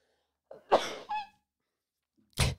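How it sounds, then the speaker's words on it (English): One close, loud sneeze with a quick intake of breath and a sharp burst, then a second short, forceful expulsion a moment later, in a quiet room. "I have to sneeze."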